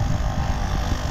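Aftermarket cabin fan mounted in a Tata Nano running on its slower first speed, producing a steady low hum and soft whir close by, unbroken and even, with no voices.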